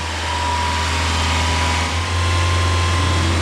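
Toyota RAV4 engine held at raised revs around 2,500 RPM, a constant steady hum with a strong low drone, close and unchanging for the whole stretch.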